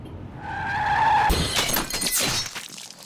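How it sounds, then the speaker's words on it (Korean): A car's tires squeal in a rising skid, then a sudden crash with shattering glass and tumbling debris as it collides head-on with an oncoming vehicle, the clatter fading after a couple of seconds. "마주오던 차와 교통사고가 나고 맙니다"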